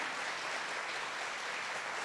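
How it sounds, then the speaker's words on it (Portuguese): A church congregation applauding, a continuous wash of many hands clapping at a steady level, soft and somewhat distant, with no voices over it. "Você pode aplaudir isso, porque isso é obra do Espírito Santo."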